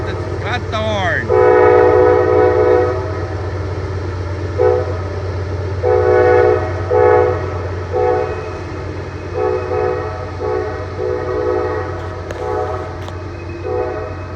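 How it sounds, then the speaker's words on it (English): Coal train passing close by, with a loud horn sounding in several long blasts over a steady low rumble of rolling railcars. "It's like a coal train."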